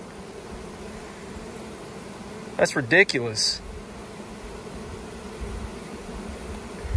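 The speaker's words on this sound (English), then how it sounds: "Bees falling off the entrance trying to get in" Honey bees hum continuously at a hive entrance where bees crowd and fall off a small opening, a close, steady drone while a person briefly speaks over it mid-clip.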